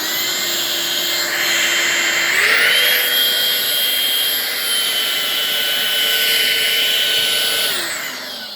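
Eufy HomeVac S11 cordless vacuum cleaner switched up to maximum power, a loud steady motor whine that steps higher in pitch partway through, holds, then drops back toward the end, with no talking.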